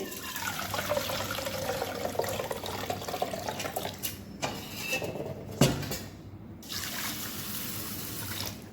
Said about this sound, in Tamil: இதை நல்லா கழுவி ஒரு நாலு வாட்டி கழுவி ஊற்றிட்டு